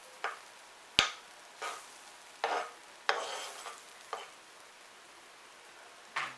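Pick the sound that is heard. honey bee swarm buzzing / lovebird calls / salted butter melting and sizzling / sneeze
salted butter melting and sizzling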